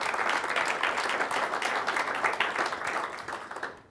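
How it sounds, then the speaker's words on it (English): An audience at a TEDx talk applauds the event organizers, dense and lively clapping throughout that tapers off slightly toward the end, with no speech over it. "how about a big round of applause for Tim and Dave and the team for putting this event together"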